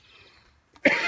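A single sharp cough bursts out near the end after a quiet stretch of soft background hiss, close and fairly loud, during a talk about Spider Green Sisonimus japonica plants.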